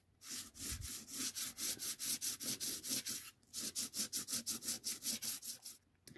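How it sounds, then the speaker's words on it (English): Sandpaper rubbing back and forth over an embossed paper card, a close, even, rhythmic scratching of about twenty short strokes with a brief pause midway. "Do not sand too much, that can destroy your card."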